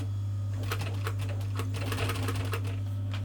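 A sewing machine stitches an insert panel into a car door card, a steady low motor hum under rapid, closely spaced needle clatter, close and moderately quiet, with no talking.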